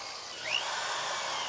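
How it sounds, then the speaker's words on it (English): A power drill bores 1/8 inch holes through the spot welds of a 2015 chassis being trimmed for a 1965 Mustang, a steady close whine that rises briefly before settling into a continuous grind. "Now I'll drill our 5/16 holes"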